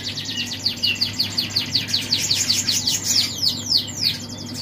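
Caged songbird at a bird kiosk singing a fast run of repeated bright chirps, close and clear over a faint background murmur, the phrase slowing slightly near the end.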